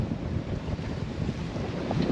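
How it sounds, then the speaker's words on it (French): Wind rushes steadily past a sailboat crossing in about 14 to 15 knots of breeze on a beam reach, a constant low buffeting roar over faint water sounds, with no talk. "on commence à prendre un peu de vent quand même"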